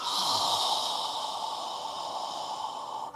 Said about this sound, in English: Continue breathing, following your breath, inhaling up, exhaling down.